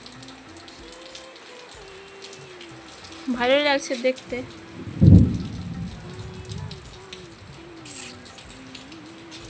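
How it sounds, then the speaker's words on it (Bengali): Rain falling steadily outdoors under dark storm clouds, a dense even hiss throughout with a heavier thump of drops or distant rumble in the middle; a person speaks briefly over it. "এই যে বৃষ্টি শুরু হয়ে গেছে"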